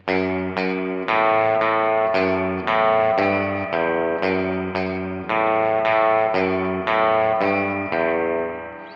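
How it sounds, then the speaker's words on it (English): A distorted electric guitar plays a slow surf riff of sustained, ringing chords without palm muting, each struck cleanly and held in a steady, even rhythm. "I'm going to play it without the palm mute so you can hear it."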